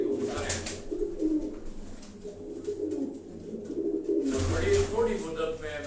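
Sialkoti pigeons kept at a house cooing in soft repeated low calls, with someone talking over them and background household noise swelling in two louder bursts.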